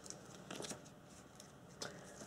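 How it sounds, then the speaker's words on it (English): A deck of cards being shuffled at a tabletop game, heard as faint, quiet riffling bursts in a few short clusters, with a final crisp snap near the end. "Just going to shuffle this deck."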